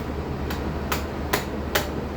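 Four sharp metallic taps at uneven intervals as a hammer strikes a metal part on a John Deere Z375R mower, each short and crisp, over a steady background hum.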